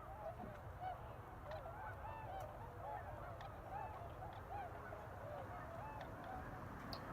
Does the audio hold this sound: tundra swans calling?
yes